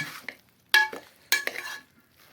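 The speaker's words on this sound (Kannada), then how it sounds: "ಒಂದು ರೌಂಡ್ ಮಿಕ್ಸಿಂಗ್ ಹೊಡೆದು" A spoon stirs cooked food in a pot just opened after pressure cooking, two short scraping strokes close by with quiet gaps and no talking.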